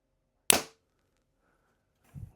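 A single sharp, loud release snaps out from a Hoyt Enduro compound bow being shot, decaying quickly, followed by a short low thump a moment later; otherwise quiet.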